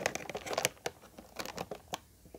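Cardboard and plastic packaging of a NECA Marty McFly action figure from Back to the Future crinkles and tears in quick, close bursts of rustling and scratching, with no talking.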